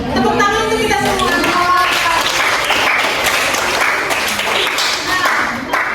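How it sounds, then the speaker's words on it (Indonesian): A classroom of students applauds together, a dense steady clapping that fills the room from start to finish while voices and cheers mingle over it. "Tepuk tangan untuk kita semua."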